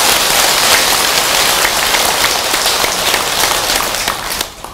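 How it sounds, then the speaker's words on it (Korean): Audience applause for the Bodhisattvas Avalokiteshvara and Ksitigarbha during a Buddhist Dharma talk, a dense, loud, steady wash of clapping that tapers off in the final moment. "관세음보살님, 지장보살님께 박수 보냅시다"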